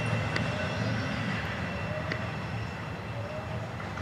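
A Florida East Coast Railway train rolls past at a distance, its locomotive giving a steady whine over a constant rumbling wash of rail noise, fairly faint and with no talking.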